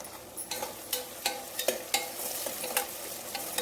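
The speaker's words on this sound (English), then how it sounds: "Fry until the onions turn to translucent." Onions fry in oil with curry leaves, green chilies and rock salt in a pan, a soft sizzle under a series of sharp, regular stirring scrapes and clicks of the spoon against the pan.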